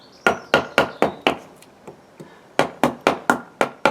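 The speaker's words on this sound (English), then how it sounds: "I'm just going to use my little throw mallet and one of my gouges just to start opening up this bowl a bit" A small throw mallet drives a gouge into a green applewood bowl blank, giving about a dozen sharp, close wooden knocks in a steady rhythm with a short pause midway.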